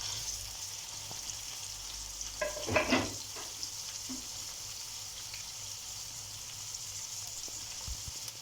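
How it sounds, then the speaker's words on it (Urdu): Finely chopped onions fry in half a cup of ghee with a soft, steady sizzle under a background hiss, broken by a brief louder stir and clatter near the middle. "سب سے پہلے ہاف کپ گھی میں 4 باریک کٹے ہوئے پیاز ایڈ کر لیں اور اس کو لائٹ براؤن ہونے کے لیے چھوڑ دیں"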